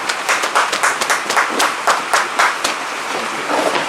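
A few people clap in an uneven burst for Mr. Lambourne on a punters' racing show, the claps close and crisp, thinning out toward the end.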